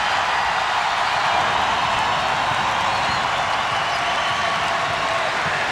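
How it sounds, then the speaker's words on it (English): A packed college basketball arena crowd roars during a Kansas versus UMass game, a steady loud wash of cheering and clapping that holds at a constant level throughout. "Boy, listen to this crowd."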